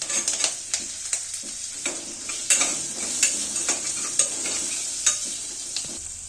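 Crushed garlic and onion fry in oil for dal khichdi, a bright steady sizzle broken by repeated quick stirring scrapes of a spoon against the pan, close and fairly loud.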